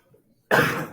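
A single sudden, loud burst of breath, sharp at onset and trailing off over half a second, like a sneeze after a short quiet stretch.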